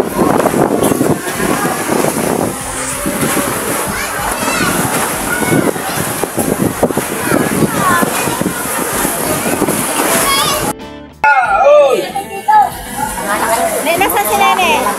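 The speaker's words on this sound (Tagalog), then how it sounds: "Sobrang hangin." Strong wind roars and buffets the microphone during a storm with rain in the early hours around 2:30 AM, steady and close, with people talking over it and a brief lull near the end.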